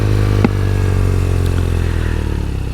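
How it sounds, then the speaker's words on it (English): BMW R nineT Racer with its boxer twin engine idles and holds a loud, steady, deep rumble up close, with one sharp clack near the start, and no talk. "Old school, retro, you need that boxer motor."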